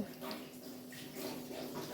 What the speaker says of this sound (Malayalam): ഞാനിവിടെ നെയ്യാണ് ഒഴിച്ചു കൊടുക്കുന്നത്